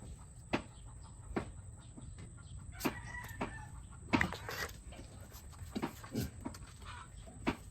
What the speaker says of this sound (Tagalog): Nagpuputak na yun.